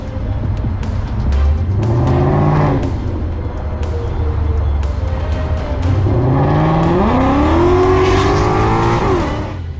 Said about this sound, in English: The Mustang driver's been wreaking havoc on the roads, driving off to the side and speeding his way through.